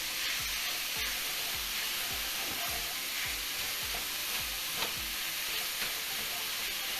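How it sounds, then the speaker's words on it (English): Chopped steak with peppers and onions sizzles loudly in hot oil for Philly cheesesteak, a constant dense crackling hiss with repeated sharp scraping taps from a spatula chopping and stirring. "We want to chop that steak in there. Woo! And we want to add our peppers and onions in here with this steak."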